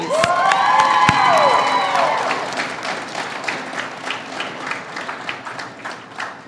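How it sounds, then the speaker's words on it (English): A graduation ceremony audience at Fort Nelson Secondary School greets the class of 2021 with a loud burst of clapping, whistles and cheers that peaks early, then thins to scattered applause. "Round of applause, please."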